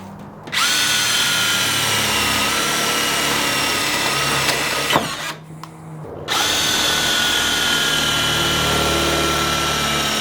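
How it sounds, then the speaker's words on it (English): A power drill bores holes through the body of a 1995-1999 Mitsubishi Eclipse GSX for spoiler mounting, whining loudly and steadily up close, cutting out briefly mid-way, then spinning back up. "so we are officially done drilling the first holes"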